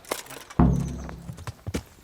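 Horse hooves clip-clop in the medieval video game Kingdom Come Deliverance, with a heavy thump followed by a loose series of steps and a faint snort, fairly close.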